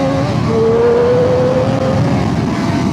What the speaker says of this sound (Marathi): चेक करू बाईक किती पळती आहे.